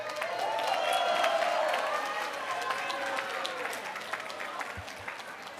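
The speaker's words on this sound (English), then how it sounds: "Give each other a round of applause." A crowd at a Russian-speaking heritage night reception breaks into sustained applause and cheering, dense clapping that swells then gradually thins over several seconds, with scattered voices mixed in.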